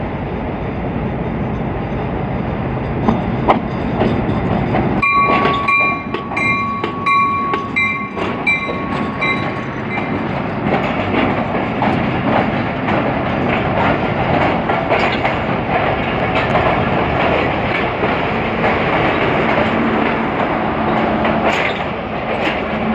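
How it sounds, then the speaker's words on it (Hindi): A locomotive hauling the Allama Iqbal Express rolls into a station near Lahore, with a steady loud rumble and rhythmic clickety-clack of wheels on rail, plus a long sustained horn-like tone partway through; no speech. "सामने से स्वेद लाइट के साथ ZCU 20 6426 की पावर टेंडोन इलामाकबाल एक्सप्रेस को लेकर आ रही है"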